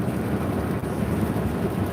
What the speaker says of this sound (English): And I wish it wasn't so windy